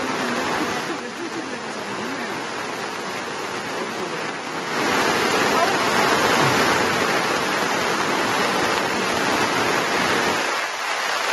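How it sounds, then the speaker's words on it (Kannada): The flooding Bhadra River rushes past in a steady, loud roar of churning water through coffee plantations, a broadband wash that swells partway through and then drops off near the end. "ಭದ್ರಾ ನದಿ ಬರೋದು ನೋಡಿ, ಇಲ್ಲಿ ದೃಶ್ಯದಲ್ಲಿ ಗಮನಿಸ್ತಾ ಇದ್ದೀರಾ"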